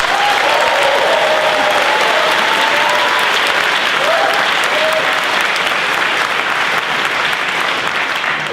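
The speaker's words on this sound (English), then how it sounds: "can I have a round of applause please for the egg incident" Dense, loud audience applause at a staff briefing fills the whole stretch evenly, a sustained wash of many hands clapping with faint crowd noise beneath.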